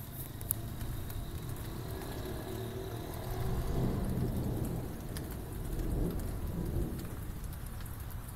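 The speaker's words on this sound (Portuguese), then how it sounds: "Trovões ao longe." Steady rain falls on surfaces in São Vicente, Brazil, with low rumbles of distant thunder swelling in the middle and again near the end, no voices present.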